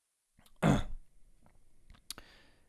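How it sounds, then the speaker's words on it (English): A single harsh throat-clearing cough bursts out close to the microphone, followed by a few faint small throat sounds and breaths. "I am so sorry for coughing."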